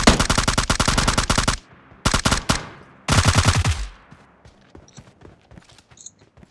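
Rapid automatic gunfire from the mobile game PUBG Mobile rattles out in loud, close bursts, three volleys separated by short pauses, then fades into quieter scattered shots and a faint background.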